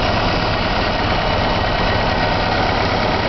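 A 1962 Willys CJ5 idles roughly with the choke still pulled out, a steady loud close-up engine drone with an uneven low throb and no talk.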